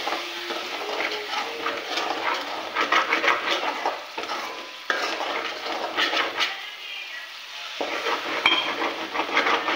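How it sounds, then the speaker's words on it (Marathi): A spoon stirs prawn curry in a pan, scraping and clattering in irregular bursts with a soft sizzle underneath and short quiet gaps between strokes. "त्यांना चांगला ढवळून घ्यायचे, नाहीतर मग हे बॉटमला चिपकून जाईल."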